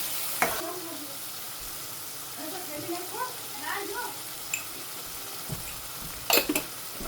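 Spices with hing and garam masala frying in a pan for dry jinga shaak, a low sizzle under scattered stirring scrapes and clinks, with a couple of sharp utensil knocks near the end.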